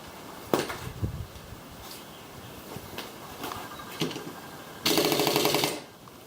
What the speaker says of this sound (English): When you're using air tools like this pneumatic wrench here,